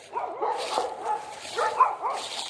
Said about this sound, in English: People's dogs over there raising hell.